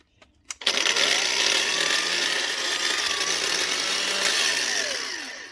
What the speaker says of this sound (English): Next up again, another Makita brushed grinder.